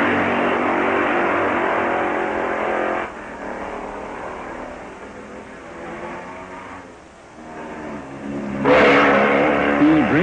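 Racing motorcycles, including AJS, BSA, Triumph and Velocette machines, rev loudly in the pit area at the 1958 Catalina Grand Prix, a sustained engine roar that dips briefly and then surges again near the end.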